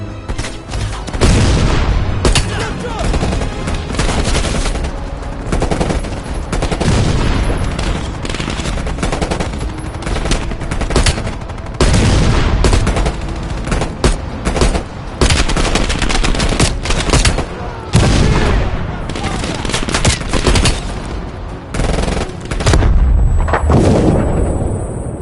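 Anti-aircraft guns firing in a video game, a loud, sustained barrage of rapid shots and booms with brief pauses, dense and close throughout.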